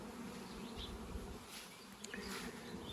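Honeybees fly around a beehive in spring, a steady close buzzing swarm with no voices.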